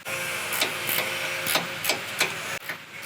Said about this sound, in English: I'm actually gonna go up with a 16 ratcheting wrench, and I'm gonna tighten those nuts down to draw that U-bolt out